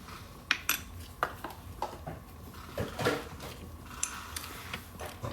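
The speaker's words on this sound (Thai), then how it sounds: "ผสมให้เข้ากันให้น้ำตาลละลายนะฮะ" A spoon taps and clinks against a bowl in irregular light strikes while a Thai chili dipping sauce is mixed to dissolve the sugar, close and fairly quiet.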